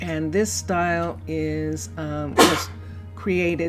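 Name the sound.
sneeze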